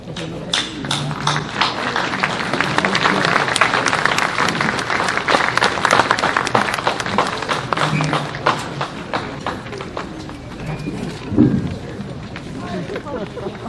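Audience applause at an outdoor municipal band concert at the fairgrounds, honoring Boy Scouts after a color guard, a long dense round of clapping from a sizable crowd with voices and some shuffling underneath.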